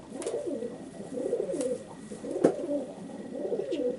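Pigeons in a racing pigeon loft coo in soft, rhythmic, repeated phrases close by, with a faint flutter or tap now and then.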